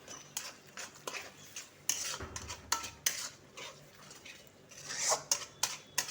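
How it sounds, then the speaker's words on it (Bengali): A spoon scrapes and taps repeatedly against a pan as poppy seed paste is stirred gently. The metal knocks come in an uneven rhythm, and a faint sizzle runs underneath. "এবার আমি আস্তে আস্তে একটু নাড়তে থাকবো।"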